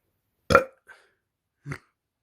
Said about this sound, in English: I'm going to burp in a second.